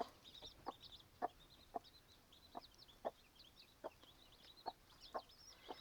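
A broody hen clucks in slow, regular single notes, around ten of them, close by, while her chicks peep softly and constantly in the background.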